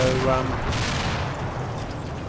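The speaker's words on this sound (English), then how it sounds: "I've got mortars falling across my line." Mortar shells explode across a line in the wargame Combat Mission Battle for Normandy, a dense rumbling barrage with a thumping burst, while a voice talks over it.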